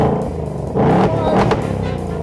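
A 2024 Ford Mustang S650 V8 engine, revved remotely while parked, rumbles at idle and then rises through a couple of short, fairly close rev blips before settling back.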